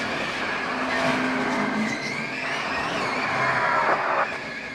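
A NASCAR Sprint Cup race car spins out, its tires squealing and skidding over several seconds while engine noise roars steadily, heard fairly close and without speech.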